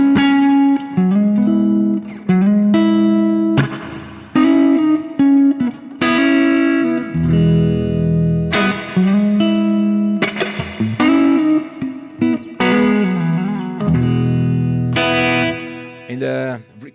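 An electric guitar through a spring reverb in front of the amp plays a clean phrase of picked notes and chords, with a splashy, wet reverb tail lingering after each note.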